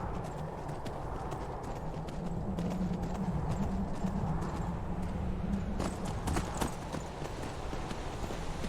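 Steady, rapid clip-clop of horse hooves in the video game Skyrim, against a continuous noisy background, keeping an even rhythm throughout.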